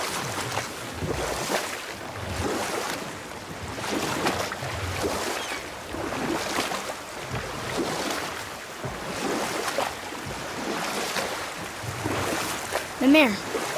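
Boat rowing in the God of War video game: steady water splashing and rippling with faint wind beneath, accompanied by speech.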